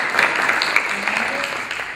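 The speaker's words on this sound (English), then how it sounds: "Everyone clap for Dr. Carter this morning." Audience applause at a leadership institute morning session, a short burst of brisk clapping from a room of people, fairly close and steady.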